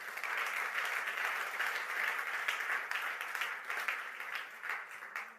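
A church congregation at a sermon breaks into sustained applause, a dense roomful of clapping hands mixed with faint cheers that rolls on steadily and then eases off slightly at the close.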